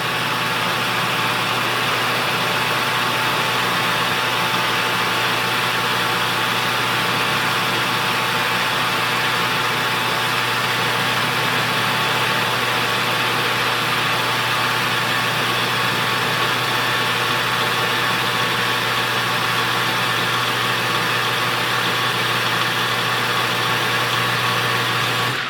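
A small lathe with a carbide insert runs with a steady motor hum as it peels rust off a workpiece. The drone stays constant and close throughout, with no one talking.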